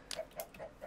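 Chickens in the Minecraft Pixelmon video game cluck in four short, evenly spaced clucks. They are faint and sound a little distant, with no voices.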